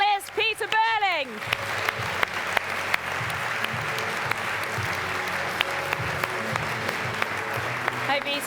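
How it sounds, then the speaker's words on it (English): Audience applause welcoming Peter Burling, America's Cup-winning helmsman and Olympic gold medalist, onto a stage. A sustained, dense wash of clapping runs steadily throughout, following a brief bit of speech at the very start. "give him a big round of applause"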